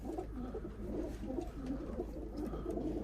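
Several pigeons coo continuously in soft, overlapping low calls, steady and nearby, with no voices.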